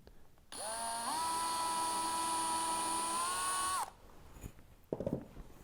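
A power drill whines steadily for about three seconds, drilling a hole in a box hinge leaf, its pitch rising briefly as it bites, then stops; a short clatter follows.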